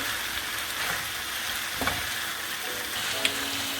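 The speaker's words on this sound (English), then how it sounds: "fry it with ginger garlic for another couple minutes until the raw taste goes away" Ginger and garlic fry in a pan for Karahi chicken, giving a steady close sizzle with light crackles and a few small pops, no talk over it.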